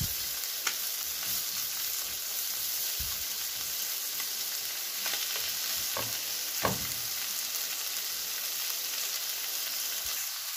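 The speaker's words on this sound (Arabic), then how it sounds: "عندي هنا بصل متقطع رفيع خالص وحطيت عليه سماق وهحطه هنا بس يا دوب يدبل وهشيله." Thin-sliced onions sprinkled with sumac fry alongside shawarma meat in a hot pan, giving a steady close sizzle with a few sharp crackles and scraping stirs, no voices.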